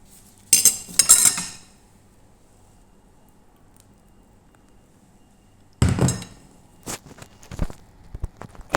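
Cream mass spread evenly over the top of a no-bake biscuit cake, heard as two short bursts of utensil scraping and clinking against a dish, separated by a quiet pause.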